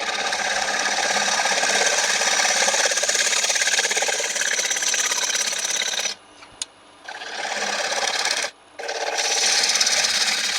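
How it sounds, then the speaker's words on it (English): On a wood lathe, a shear scraper rasps steadily across a spinning yew bowl in a continuous loud scraping hiss, broken by two short pauses where the tool lifts off. "Then a bit of blending in with some shear scraping"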